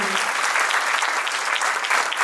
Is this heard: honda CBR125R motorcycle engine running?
no